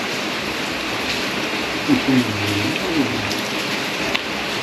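Rain falls outdoors as a steady, even hiss that fills the whole stretch, with a brief faint voice-like murmur partway through.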